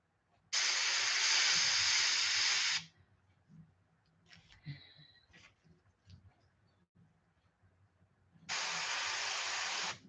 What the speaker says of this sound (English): Most of the spray is going on the stencil and then you're just getting a lot of overspray